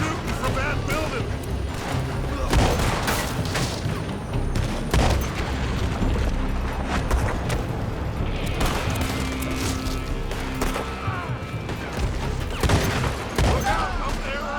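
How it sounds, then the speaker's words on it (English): Dense, continuous gunfire in the video game Red Dead Redemption 2, with repeated loud shots and booms that overlap throughout. Voices shout over the shooting. "They're shooting from that building!"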